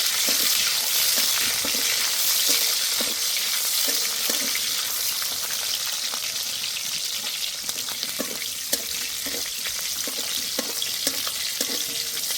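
Capsicum frying lightly in oil in a pan for a vegetarian soybean dish, giving a steady, soft sizzle with scattered sharp ticks and scrapes of stirring over about twelve seconds, with no voices.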